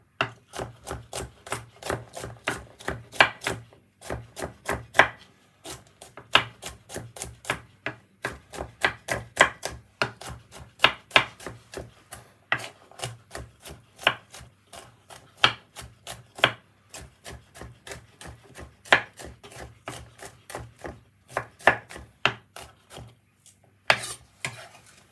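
Garlic being chopped for a chicken marinade, a long run of quick, crisp knife taps on a board, close and fairly even in rhythm with brief pauses.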